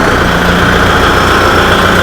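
A Kubota tractor engine runs at a steady idle, a continuous loud low rumble with an even mechanical hum that stays close and constant throughout, with no talking.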